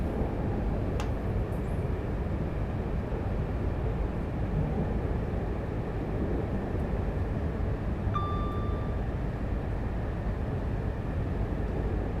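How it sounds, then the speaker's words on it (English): Steady, loud electric train running sound from a Class 710 with a sound mod in Train Sim World 4, a continuous broadband rumble and hum throughout, with a brief short tone partway through. "The Class 710 is like that with the ECO 165 sound mod as well"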